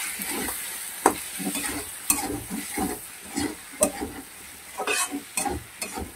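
Finely chopped tomatoes being stir-fried with chicken scraps in a pan, giving a steady sizzle broken by repeated scraping stirs of a spoon, close up and with no voices.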